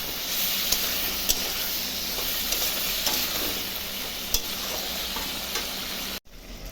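Steady sizzling of frying in hot oil with salt and turmeric, with a few sharp taps of a spatula stirring, ending in a brief cutoff.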